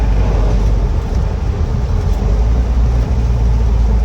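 A restored 1988 Land Rover 110 soft top with a 200TDi diesel engine drives along, its steady low engine drone and road rumble continuous and close throughout.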